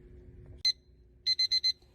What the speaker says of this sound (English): Okay, you hear my timer.